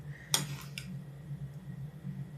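A spoon clinks sharply against a glass jar a couple of times while stirring brine for pickled cucumbers, over a low steady hum.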